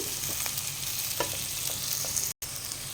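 Green chilies fry in hot oil for a potato tempering, giving a steady close sizzle with a few scraping stirs and a brief cut to silence near the end.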